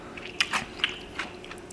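Crisp bites into raw Kirby cucumbers during a mukbang meal: several loud, close crunches followed by wet chewing, with no speech.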